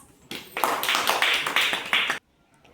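A short burst of group clapping by children in a classroom, several hands at once, lasting about two seconds at moderate loudness, with no talking.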